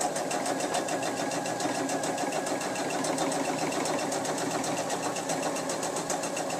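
Sewing machine running steadily, stitching around the rounded toe of a Christmas stocking made from a thrift-store sweater; a continuous fast whirring hum, close and even, with no talking.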